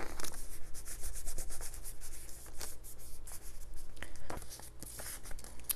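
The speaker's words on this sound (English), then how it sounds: "Okay, so now I can press the sticker down." A sticker being pressed and rubbed down onto a paper envelope flap, giving close, steady scratchy rubbing strokes that repeat in short bursts over several seconds with no talking.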